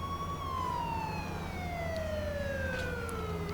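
A vehicle siren in a video game wails steadily and slowly sweeps downward in pitch, loud and continuous with an engine hum beneath and no talking.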